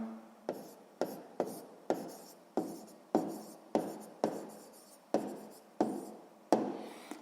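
A pen or pencil scratches out an answer on paper in short repeated strokes, about a dozen soft close scrapes at a steady rhythm, heard alone in a quiet room.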